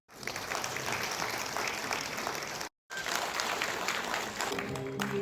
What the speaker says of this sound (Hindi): हमारे माननीय अतिथियों द्वारा ढेर सारी तालियों के बीच